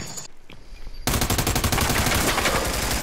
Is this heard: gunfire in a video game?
yes